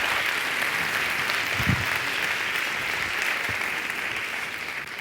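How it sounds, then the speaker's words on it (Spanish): A science club audience applauds a speaker with steady, moderately loud clapping that carries through the room, a couple of low thumps in the middle. "Un aplauso para Enrique González Bernardo."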